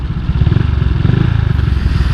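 A Honda Vario motor scooter with a CMS generation 2 aftermarket exhaust idles with a deep, throaty exhaust rumble, steady and close, with a slight rhythmic pulse and no voices.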